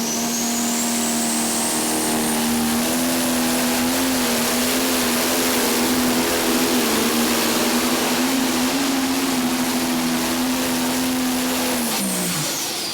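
John Deere Pro Stock pulling tractor at an NTPA tractor pull in Chapel Hill, Tennessee, its engine roaring loud and sustained at high revs with a turbo whine on top, holding steady before the pitch drops as the run ends.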